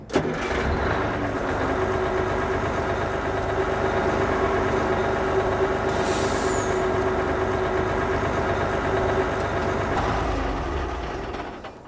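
In Farming Simulator 22, a truck engine turns over and settles into a steady mid-pitched idle, a continuous, even hum with a faint whine, before cutting off near the end.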